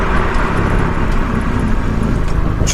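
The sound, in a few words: Subaru Impreza STi S204 brake test while driving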